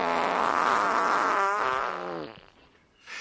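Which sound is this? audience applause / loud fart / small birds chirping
loud fart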